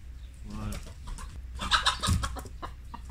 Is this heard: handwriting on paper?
no